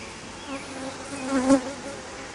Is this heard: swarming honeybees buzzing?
yes